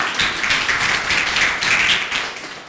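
A crowd claps steadily for a few seconds, a dense patter of hand claps filling the room with no voices on top.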